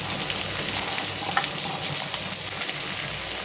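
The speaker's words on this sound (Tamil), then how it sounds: "நல்லா வதங்கணும். சொரா புட்டுக்கு வெங்காயம் ரொம்ப முக்கியம்." Three large onions sauté in a pan for a Tamil shark puttu, a steady, close, loud sizzle and crackle running throughout, with faint scraping of a spoon now and then and no voices.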